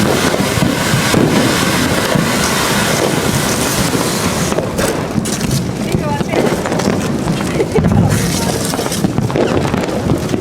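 Diwali firecrackers bursting at a family celebration in Chennai, a dense, continuous crackle and rumble of many explosions filling the whole stretch, loud and close, with voices faintly mixed in.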